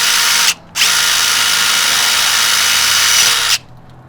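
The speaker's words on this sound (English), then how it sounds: "This is a 5/64 bit. We're gonna drill right here in the center." A power drill with a 5/64 bit whirs at a high, steady pitch into a slab over a leak, stopping briefly after half a second, then running loud and continuous for about three seconds.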